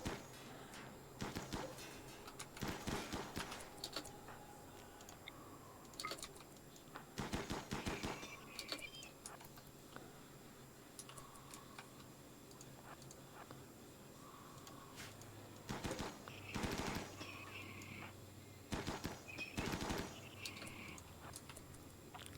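Bursts of gunfire in the video game RimWorld, quiet rapid volleys of shots scattered through the stretch, some in clustered rattles and others as single cracks, with no talk.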